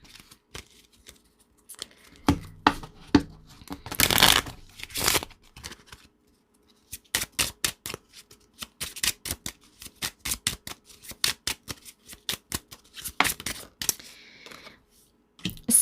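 Tarot cards shuffled and pulled from a deck, crisp papery riffles and snaps coming in quick bursts and rapid flicking runs, close and distinct with short pauses and no talking.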